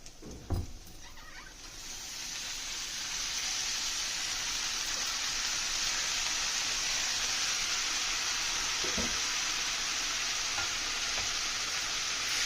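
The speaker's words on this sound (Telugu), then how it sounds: "ఇప్పుడు ఆకుకూర వేసేసుకుందాం." Leafy greens tipped into a pan of fried onions for a mixed-greens curry, a clatter followed by a loud, continuous sizzle as they are stirred.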